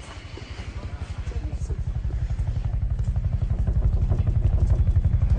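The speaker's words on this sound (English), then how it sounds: "Jeanette, our life flight helicopters can take a couple of isolettes when they get back" A helicopter flying in a disaster action movie, its heavy rotor thumping in a steady rapid beat that grows louder as it approaches, loud and dominant throughout.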